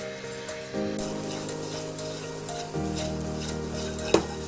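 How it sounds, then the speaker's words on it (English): Egg frying in hot oil for an egg bhurji, a steady sizzle that grows louder partway through, with a continuous hum beneath and a sharp utensil clink near the end. "Once you heat the oil, after that we're gonna add the egg."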